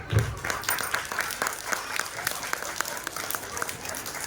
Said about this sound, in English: Finally, a big round of applause, our wonderful tiny tots.